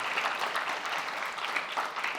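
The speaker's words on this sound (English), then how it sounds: "We can give these folks a big round of applause" Audience clapping at a scholar awards reception, a sustained even wash of many hands at moderate volume with no voices over it.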